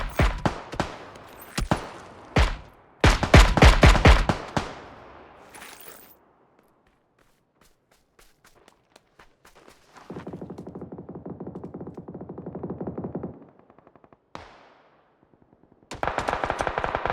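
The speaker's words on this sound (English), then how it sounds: "Aimlock and wall hack combo unloads 34 bullets into dirt as the enemy is fully behind cover." Automatic gunfire in the video game PUBG rips out in loud, close bursts, with shots fired into dirt. Rapid volleys come first, then a quieter stretch with a buzzing tone, and firing resumes at the end.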